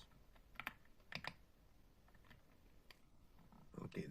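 Python code is typed on a computer keyboard: quiet, close keystrokes in small irregular bursts with short pauses between them.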